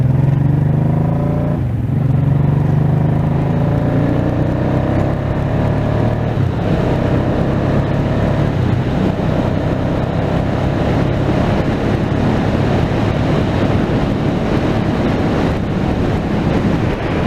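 A Honda Deauville motorcycle on a ride-out gives a steady engine drone under heavy, continuous wind buffeting on the microphone, loud and unbroken throughout.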